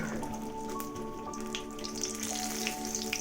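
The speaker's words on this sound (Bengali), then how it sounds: "পটল দিয়ে ভেজে নিচ্ছি" Pointed gourd (potol) frying in oil, a steady crackling sizzle close by, with some tonal background music running underneath.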